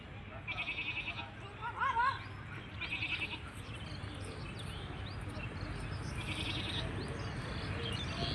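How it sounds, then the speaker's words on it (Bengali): A frightened goat bleats a few times close by while a person talks almost throughout, the calls showing as short wavering bursts early on against steady outdoor background noise. "যে ছাগল ডাকতেছে, ও ভয় পাচ্ছে যে মেমা করে ছাগল।"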